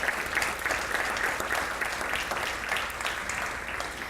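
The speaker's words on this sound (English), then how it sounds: "So round of applause for our programs." An audience at the Indianapolis Neighborhood Resource Center's annual meeting gives a round of applause for its programs, steady moderate clapping that carries on evenly.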